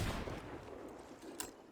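Ship cannon fire in Sea of Thieves, a muffled boom at the start followed by a sharper distant crack, faint against low ambient wash.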